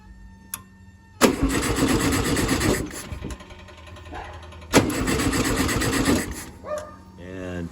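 Air-cooled VW Beetle engine being cranked over twice, each burst a loud mechanical churning of starter and engine lasting about one and a half seconds, separated by a quieter pause, with a brief voice near the end.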